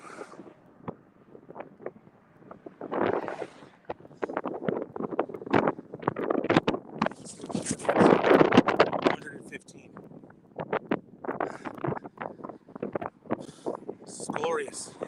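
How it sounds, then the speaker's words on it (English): Strong gusts buffet a microphone on the 7 Mile Bridge, rumbling and roaring in uneven bursts that swell loudest near the middle, with a voice speaking intermittently beneath the wind. "It has been windy."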